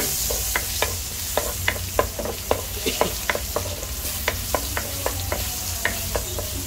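Garlic frying in melted margarine in a pan, a steady sizzle with a regular series of sharp scraping clicks from stirring throughout.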